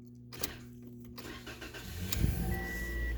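A 2016 Toyota Corolla engine cranks and fires up during a transmission flush, a brief starter whir followed by a steady close idle rumble that grows slightly louder, with no talking.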